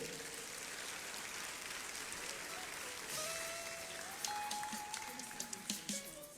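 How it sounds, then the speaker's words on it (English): An audience at a Ghanaian citizenship ceremony applauds, a soft, distant patter of clapping that runs steadily, joined partway through by faint sustained tones and sharper claps near the end. "Shall we do a big round of applause for him?"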